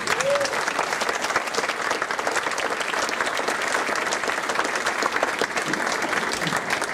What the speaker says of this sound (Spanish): para quien le pido un fuerte aplauso